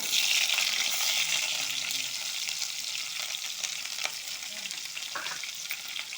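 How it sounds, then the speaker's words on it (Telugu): Chana dal, urad dal and onion frying in a pan, a steady close sizzle with light stirring and scraping throughout. "శనగపప్పు, మినపప్పు ఇది ఇట్లా వేపుకోవాలి."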